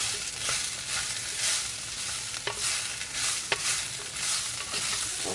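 Pumpkin and onions with spices get tossed in a hot pan, making a continuous dense sizzle broken by soft scraping stir strokes and a couple of sharper knocks against the pan.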